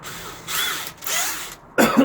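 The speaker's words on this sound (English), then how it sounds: "by drilling the 6mm holes there, if we're going to go 6mm down, we can drill another hole below it" A power drill boring 6mm holes on a boat during calorifier installation, three short whirring bursts separated by brief pauses, close and loud with no talk.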